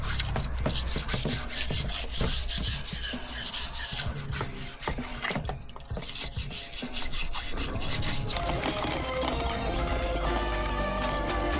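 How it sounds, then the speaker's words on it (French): A small wire brush scrubs pistol parts in soapy water, producing close, continuous rapid rasping strokes with wet scratching texture, busy and uneven, with no speech. "une petite brosse métallique pour brosser toutes les imperfections"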